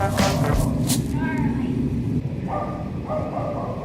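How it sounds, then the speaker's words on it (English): A dog barks and yips in short bursts near the start, followed by softer whiny sounds against a steady rumbling background. "Stop barking, please."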